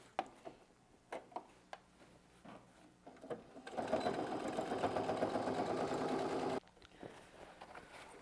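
A sewing machine stitches a fabric bag: a few short isolated bursts of needle clatter, then a loud steady run of about three seconds as it backstitches, stopping abruptly before more short stitches.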